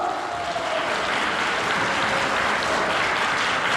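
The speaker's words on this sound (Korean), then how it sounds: "여기 계신 모든 분들의 큰 박수로 시작합니다." Wedding guests applaud together at the start of a ceremony, a steady, dense burst of clapping lasting the whole moment with no voices on top.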